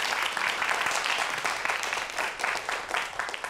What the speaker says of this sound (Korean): 오늘 좋은 강연 해주신 우리 백다은 선생님께 다시 한번 큰 박수 보내주세요.